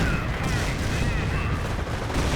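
A Werfer rocket artillery barrage in the Company of Heroes video game, a dense, continuous rumble of overlapping explosions that stays loud and unbroken throughout.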